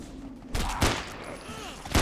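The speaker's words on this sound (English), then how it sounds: "I'm gonna use the Winchester rifle now." Winchester rifle shots in the zombie survival game No More Room in Hell ring out as three loud, sharp cracks spaced apart over a steady backdrop of game ambience.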